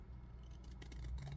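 Scissors cutting card stock for a handmade card, a brief, close, soft snipping and rustling over a steady low hum.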